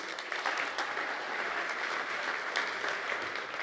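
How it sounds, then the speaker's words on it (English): Audience applause at the Umbraco Codegarden 2022 conference, a steady wash of many hands clapping at moderate level, holding evenly for a few seconds with no voices. "Give one more round of applause to Bjarke"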